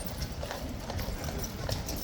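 Horse hooves clip-clop steadily and close by as an unhappy horse balks at entering its box, with a dense, continuous clatter of steps throughout.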